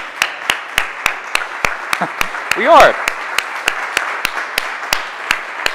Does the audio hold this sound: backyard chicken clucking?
no